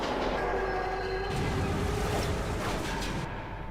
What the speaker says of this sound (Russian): Прозрачный поезд?